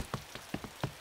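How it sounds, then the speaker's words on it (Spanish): A handful of distinct drops patter close by at uneven intervals, sharp little splashes on a surface against a quiet background. "¡Llueve mucho para jugar ahora!"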